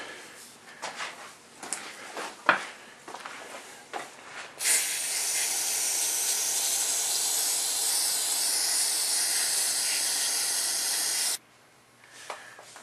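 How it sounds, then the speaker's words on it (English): Carburetor cleaner sprays from an aerosol can onto a painted mini Indian motorbike part in one long, loud, continuous hiss of about seven seconds, with scattered clicks and handling knocks before and after. "Grab some carburetor cleaner."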